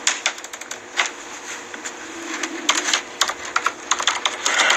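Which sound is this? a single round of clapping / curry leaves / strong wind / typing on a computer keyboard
typing on a computer keyboard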